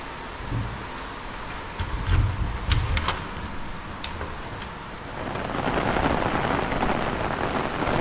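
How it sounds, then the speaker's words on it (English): Steady rain patters outdoors, a dense hiss that swells louder near the end, with a few faint clinks in between. "it's raining outside"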